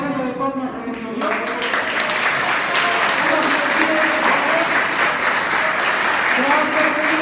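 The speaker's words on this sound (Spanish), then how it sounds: "Si van a dar una ofrenda de palmas a nuestro Dios." A church congregation bursts into applause as an offering of praise to God, loud dense clapping building after a brief spoken moment and continuing steadily, with a voice faintly audible beneath.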